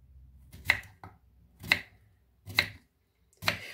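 A knife chops fresh cucumber and herbs on a board in four sharp, evenly spaced strikes, with a quieter tap between the first two, each hit close and crisp against near silence.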